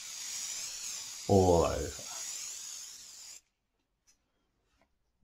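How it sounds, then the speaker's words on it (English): Hairspray is sprayed in a light, steady stream at an angle over a pastel drawing to fix it, giving a continuous close hiss of about three seconds that stops abruptly, with a person briefly speaking partway through. "So I'm using hairspray, 45 degrees angle,"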